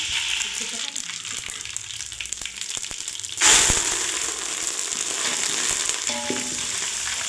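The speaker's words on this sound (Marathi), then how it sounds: "आता आपण कतीलला फोडणी देणार आहोत ते पहा" Hot oil sizzles steadily, then bursts into a loud crackling hiss as tempering spices with curry leaves and crushed green chillies hit the pan, settling into continuous frying with faint stirring.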